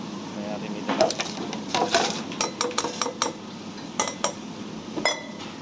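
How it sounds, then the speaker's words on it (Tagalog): Crushed ice tumbling into a glass for a strawberry mojito, a run of close, bright clinks and rattles in uneven bursts. "Ito na yung nagawa kong crush ice. So, lagyan natin dito lahat."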